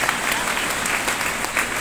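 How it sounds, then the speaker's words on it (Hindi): Brief burst of audience clapping at a crowded DXN event in Banshi Bhawan, Allahabad, greeting the state PIC, even and continuous throughout. "एक जोरदार ताली हमारे स्टेट PIC के लिए।"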